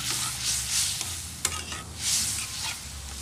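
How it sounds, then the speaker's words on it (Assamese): Chicken butter masala fries in a pan after water is added, a loud, close sizzle that swells and fades in waves, with scraping stirs and a sharp clack near the middle. "পানীখিনি দি লৈ আৰু অলপ সময় মই ভুনি ল'ম।"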